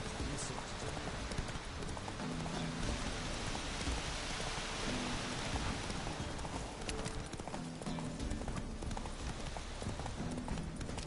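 Horse hooves clip-clop steadily in The Witcher 3 video game, a continuous rhythmic trot mixed with a constant patter of rain throughout.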